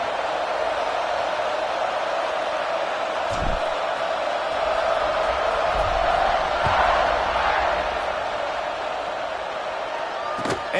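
Broad, sustained roar of a football stadium crowd cheering ahead of a kickoff, with a few sharp thuds and a swell in the middle, under a commentator's voice.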